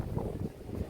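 Strong wind buffets the microphone outdoors at Perlas ng Silang, a garden and flower farm beside a lake, as a steady low rumbling roar that lasts throughout.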